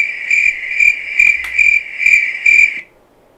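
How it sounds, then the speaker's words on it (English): A loud cricket chirp sound effect, a continuous shrill trill pulsing about five or six times in even rhythm, close and dominant, then stopping abruptly. "Man, that's a loud cricket chirp there."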